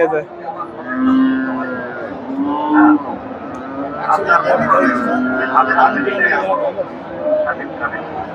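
Friesian dairy cows moo repeatedly at a busy cattle market in Bogura, with loud drawn-out lows rising over a background of crowd chatter and nearby voices.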